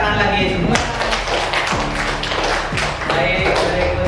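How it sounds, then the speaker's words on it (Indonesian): An audience at an Indonesian teacher training session claps together in a dense, steady patter of hands. A few sharper taps and thuds come through over a background voice. "Ya, tepuk tangan lagi semua."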